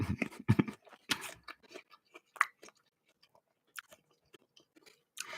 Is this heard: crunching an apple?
yes